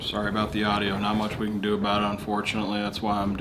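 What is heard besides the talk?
None of the usual background noises is heard.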